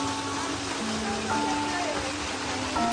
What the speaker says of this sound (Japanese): 水が落ちる音だけ。